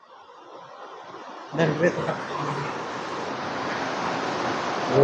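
A loud, steady rush of water flowing down from above into a stream in the Araku hills, starting suddenly after a quiet opening, with a brief voice early on.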